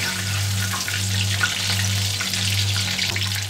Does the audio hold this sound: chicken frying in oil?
yes